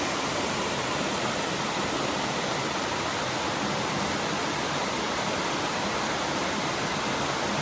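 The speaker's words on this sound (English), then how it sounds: "Really nice waterfall" Red Rock Falls waterfall near Balsam Grove, North Carolina roars as a loud, steady, broadband wash of falling water with no breaks, heard close up and alone without voices.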